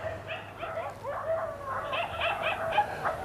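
Dogs barking at night in Timor-Leste in 1992, an irregular run of yips and barks from one or more dogs at moderate distance over a steady background hum.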